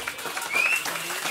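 A live comedy show audience applauds in response, with brief, dense clapping mixed with crowd voices and a raised voice over it.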